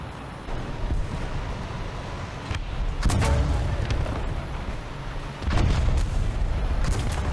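Object 292 tank's 152 mm gun in War Thunder fires loud booming shots, one around three seconds and another near five and a half, each with a rumbling tail over steady engine and battle noise.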